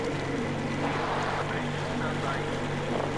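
Motorboat engine running in the video game Metro Exodus, a steady, loud low drone with wind and water wash layered over it, continuous throughout the clip with no talk.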